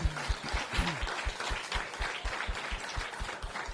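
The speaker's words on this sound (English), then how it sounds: "Big round of applause for everybody." Competition audience applauding after eight finalists finish at a university startup pitch event, a moderately faint, steady patter of many hands clapping, continuous and fairly even throughout.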